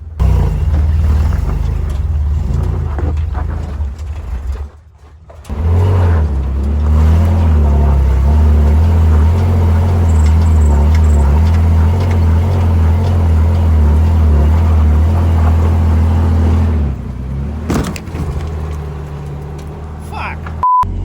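Off-road vehicle engine straining up a rocky trail obstacle on Gold Mountain in Big Bear, a loud low rumble that cuts out briefly, then returns and revs steadily before dropping away near the end.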